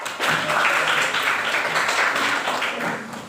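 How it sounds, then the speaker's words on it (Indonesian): Students applaud in a classroom, a short wash of many hands clapping together at moderate loudness, holding steady before easing off. "Tepuk tangan yang meriah."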